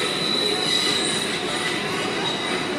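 An electric train rumbles past at close range with a steady, loud hiss and metallic squeal throughout, no voices.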